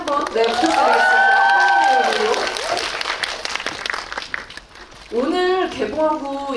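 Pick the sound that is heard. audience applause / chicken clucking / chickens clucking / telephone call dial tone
audience applause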